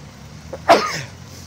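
A single sharp sneeze bursts out, short and close, after a faint intake of breath.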